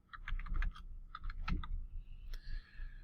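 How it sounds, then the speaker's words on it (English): A password being typed on a computer keyboard: a quick run of close, quiet key clicks, a brief pause, then a few more taps and a final keystroke. "We're going to type in the password."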